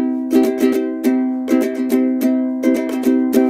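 Ukulele strummed through Jingle Bells chords at full tempo, a steady down-up rhythm of bright chord strokes with clear accented downstrokes, played close and alone without voices.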